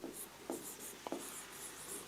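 Writing on a board during a class 9 maths lesson on circles, with faint scratchy strokes and a few short taps over a quiet background hiss, no voice heard.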